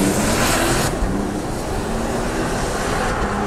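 A 2022 Toyota Tundra TRD Pro hybrid pickup accelerating, giving off a loud, steady broadband roar of engine and road noise that eases slightly partway through, with no talking.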